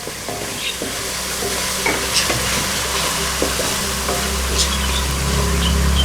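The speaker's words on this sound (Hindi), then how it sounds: "ये सब्ज़ मिर्च डाल दी। अब इसको थोड़ा भूनेंगे।" Chopped green chilies fry in spiced oil for a spinach and meat curry, crackling and sizzling close up while a spoon stirs and scrapes the pan with light, irregular knocks.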